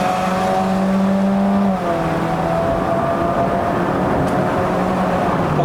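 A remapped 2021 Honda City RS e:HEV hybrid climbs a hill toward Genting, its engine droning steadily close up with a pitch shift partway through and road noise beneath.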